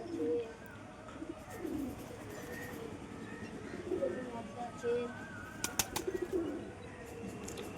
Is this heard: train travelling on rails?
no